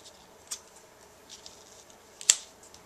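Scissors trimming cardstock for a handmade birthday card give two faint, crisp snips, one soft and one sharper, in a quiet room with no talking.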